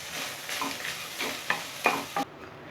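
Grated coconut being stir-fried in a pan for country chicken salna, a soft continuous sizzle broken by a few sharp spatula scrapes and taps against the pan before the sound cuts off abruptly.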